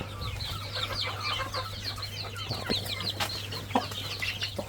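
Chickens cluck and chatter in a dense, continuous flock on a chicken farm, with a steady low hum running underneath throughout.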